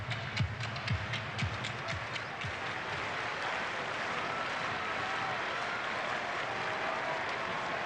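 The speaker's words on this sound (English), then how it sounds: "Crowd really into this game" Stadium crowd at a Dodgers baseball game against the St. Louis Cardinals, late innings of a tied game: a steady roar of cheering and applause with scattered claps and shouts, broad and continuous throughout.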